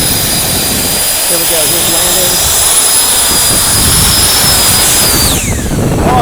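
A Sprite hop test craft coming in to land gives off a loud, continuous jet-like roar with a high whine that slides downward near the end, as someone talks over it.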